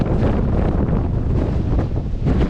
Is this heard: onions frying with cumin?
no